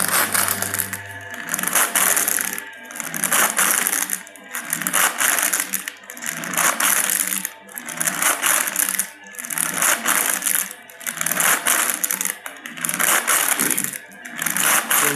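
A Fibretec Gelbo flex tester running in auto mode through its twisting cycle, a steady loud mechanical whir that pulses in regular repeating strokes roughly every second and a half, with no voices.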